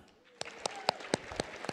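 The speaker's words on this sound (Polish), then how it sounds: "Brawa dla Tarzana!" Scattered claps ring out at a lively conference event for a fighter nicknamed Tarzan, arriving in sparse, uneven bursts about a quarter-second apart, with a voice and crowd noise murmuring underneath.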